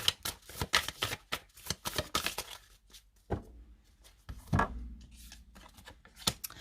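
Tarot cards shuffled and slapped down in a quick run of crisp riffling bursts, then a pause and a couple of sharper card placements on a table, close and clear with no talking.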